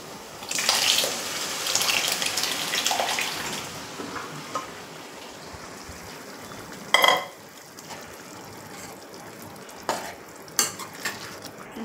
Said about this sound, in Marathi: आता आपण ज्या शिजवलेल्या भाज्या आहेत त्या स्मॅश करून घेतल्या त्या टाकणार आहे